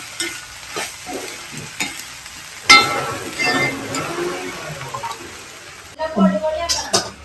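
Onions and tomatoes sizzle in a pan while a spoon stirs them, with scraping and clinking strokes over a steady fry and a sharp knock partway through.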